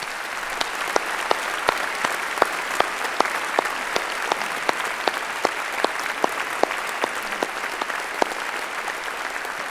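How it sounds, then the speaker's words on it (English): A university graduation ceremony crowd claps in a long, even round of applause, a steady wash of many hands with a few sharper, nearer claps standing out at a regular pace throughout. "ask you all to join me in a round of applause"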